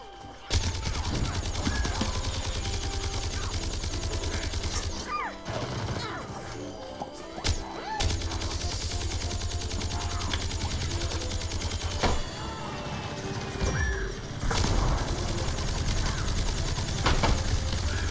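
Sustained bursts of gunfire from a 3D shooter based on Plants vs Zombies 2, firing loud and near in long rapid volleys broken by brief pauses, with game effects and crashes mixed in.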